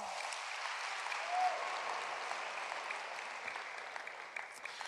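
Steady, moderately distant audience applause at a gathering in a theatre, a sustained wash of clapping from a large crowd with no break.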